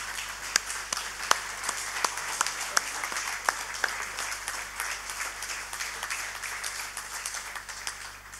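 Audience applause welcoming Pakistan's Prime Minister Shehbaz Sharif at a Minorities Day event: steady, dense clapping from a large hall crowd, with a few sharper individual claps standing out, continuing without speech.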